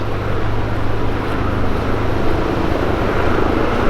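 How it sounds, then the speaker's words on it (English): Continuous heavy rotor and engine drone of a helicopter over Hollywood Beach, Florida, loud and steady throughout, with no other sounds standing out. "I got the helicopter over there"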